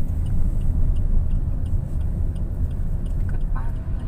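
Inside a car during a beginner's driving lesson, the engine gives a continuous low rumble as it is throttled toward 40, steady and close with no clear voices.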